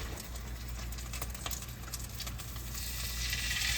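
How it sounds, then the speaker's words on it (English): Pork medallions frying in hot oil in a pan: steady sizzle and crackle, with a busy patter of spitting that thickens toward the end; no one speaks. "our oil is sizzling a bit, so we're going to take our medallions over to this pan"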